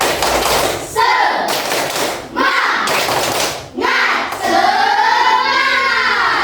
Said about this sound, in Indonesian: biar semangat kita tepuk semangat dulu. Tepuk semangat.